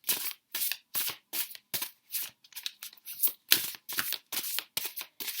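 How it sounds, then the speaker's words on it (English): Oversized tarot cards shuffled sideways in the hands, a steady run of about a dozen crisp riffling bursts with short gaps between them, close and clear and without any talking. "I have to shuffle these sideways just because they are huge."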